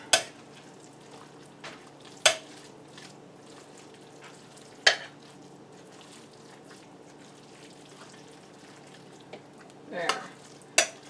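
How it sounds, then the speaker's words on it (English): A spoon stirs BBQ pulled pork in a pot, making several sharp scraping knocks spaced a few seconds apart over a soft, constant bubbling sizzle, with no one talking. "Alright, so I'm going to stir that up."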